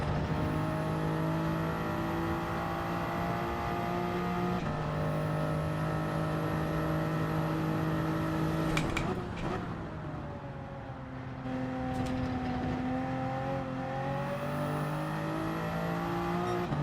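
A Genesis Group 3 race car in Gran Turismo 7 at Sardegna Road Track, its engine revving hard and steadily through the gears, the drone rising and shifting pitch, with a brief dip as it changes gear.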